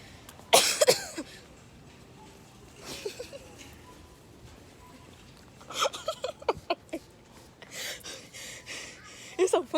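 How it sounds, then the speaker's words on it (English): A person coughs hard in a Walmart store, loud close bursts at the start and again in clusters later, with breathy gasps and quieter talk between them. "when I cough, they start to slow down"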